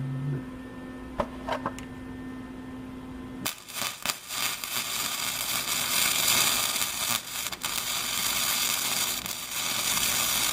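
Welding custom radiator mounts for a turbo Mustang build: after a steady hum, a loud crackling, sizzling arc starts abruptly and runs for several seconds with brief interruptions between short welds.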